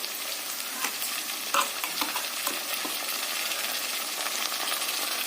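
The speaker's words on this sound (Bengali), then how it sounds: "দিয়ে আমি এটাকে একটু ভালো করে একটু কষিয়ে নেবো।" Chicken coated in ginger-garlic paste sizzles steadily in a hot pan as it is stirred, with a close, continuous frying hiss and occasional light scraping clinks, no voices.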